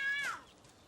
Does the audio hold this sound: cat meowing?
yes